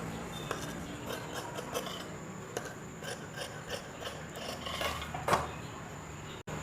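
Scissors cut fabric for a baby dress sleeve in a steady series of soft, close rasping snips, quiet and alone with no talk over them.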